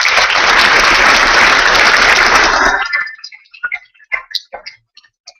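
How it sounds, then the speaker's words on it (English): Graduation audience at a youth in policing winter after-school ceremony breaks into loud, dense applause that cuts off abruptly, leaving a few scattered, isolated claps. "Give yourselves a round of applause"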